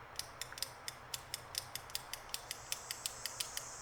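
Gearwrench 120 XP spline-drive ratcheting wrench with 120 teeth clicking in a fast, even series of small sharp ticks, close up and alone, ending in a slightly louder snap.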